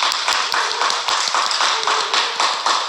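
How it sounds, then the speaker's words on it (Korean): A church congregation at a Wednesday service claps together in a loud, even burst of applause that continues steadily throughout. "기원 불어넣기 위해서 큰 박수 한번 부탁드립니다"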